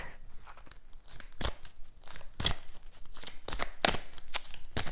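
Tarot cards being drawn and handled, giving a run of crisp, papery snaps and shuffling rustles at irregular intervals, close and fairly clear.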